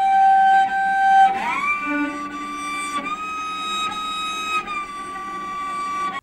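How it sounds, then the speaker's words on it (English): Cello played with false harmonics, the thumb acting as a movable nut to sound the harmonic at the fourth, giving thin, glassy sustained tones that slide and shift pitch across a few connected notes, alone and fairly close. "False harmonics get their interesting name because your thumb becomes a movable nut to create the"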